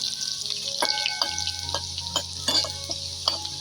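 Cut garlic frying in hot oil with cumin and mustard seeds for a Maharashtrian chutney, a steady close sizzle with spoon stirs and clinks against the pan.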